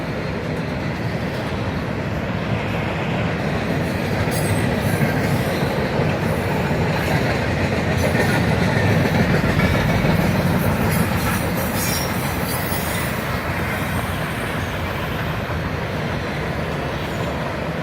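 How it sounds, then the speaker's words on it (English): A BNSF intermodal freight train rolls past close by, a loud steady rumble of railcars with clicking wheels and occasional wheel squeal for the whole stretch, no voices. "That's the intermodal."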